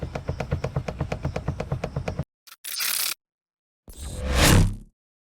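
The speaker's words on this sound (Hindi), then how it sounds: "तो ये सीट कुछ इस तरह की आवाज़ करती है।" Seat in a Mahindra Scorpio N, Z2 or Z4 variant, making a rapid series of short creaking clicks, then two separate bursts of scraping, rustling friction, loud and close with no talking.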